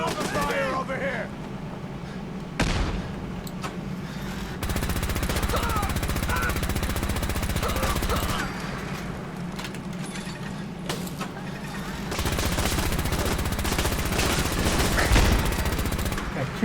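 Sustained gunfire in Fallout 4, automatic bursts and repeated shots rattling almost without pause, loud and close over a low rumbling bed, with people talking during the firefight.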